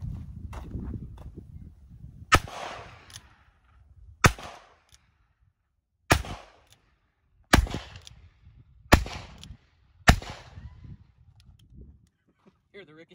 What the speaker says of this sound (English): We're gonna shoot some 38 specials out of her.